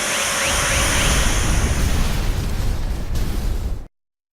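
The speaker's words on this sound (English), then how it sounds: "Transport the 5 of us out of here before this explosion does it for us." Explosion in the video game Star Ocean: Integrity and Faithlessness: a loud, sustained roaring blast with rumbling crackle that holds for several seconds, then cuts off abruptly to silence.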